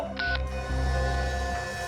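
A telephone line sounds a short electronic tone as a call is cut off, a brief beep over a steady low hum, close and clear.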